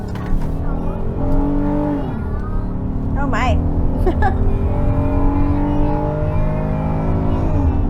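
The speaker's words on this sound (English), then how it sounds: "a fully loaded minivan gets up to 70 quick" A 2025 Honda Odyssey V6 minivan, fully loaded, accelerates steadily to highway speed with a rising engine drone inside the cabin, while people talk briefly over it.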